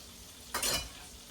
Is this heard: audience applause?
no